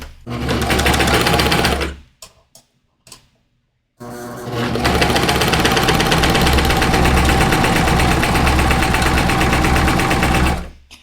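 An overlocker (serger) stitches a rolled hem in a steady, loud, fast mechanical whir. It runs for about two seconds, drops into brief scattered taps and a short silence, then runs again continuously for several seconds.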